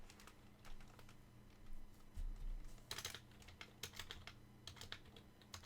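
Computer keyboard typing, a fast irregular clatter of key presses in close bursts with brief pauses, heard alone without speech.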